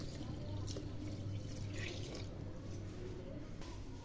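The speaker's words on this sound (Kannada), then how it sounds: "ನೀರು ಹಾಕ್ಕೊತೀನಿ." Water pours steadily onto rice in a pot for soybean biryani, a continuous close splashing stream with a low gurgling undertone, no talk.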